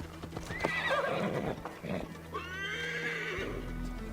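A horse whinnies twice with rising, wavering neighs over clip-clopping hooves in Assassin's Creed Valhalla, and a voice says a brief word.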